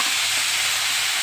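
Food frying in a pan on a gas stove, a steady close hiss and sizzle with faint crackle throughout, no voices.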